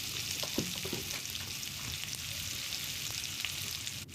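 Potato pieces fry in oil seasoned with dried red chilli, whole cumin, turmeric and salt, making a soft, even sizzle close by with light stirring clicks early on.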